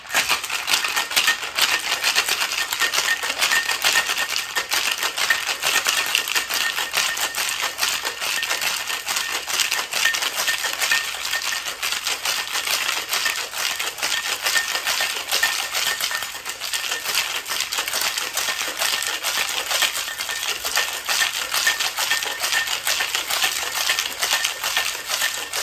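A cocktail shaker is worked hard while mixing a honey whiskey sour. Ice rattles and clatters in a fast, continuous, loud rhythm for the whole stretch, with no talk.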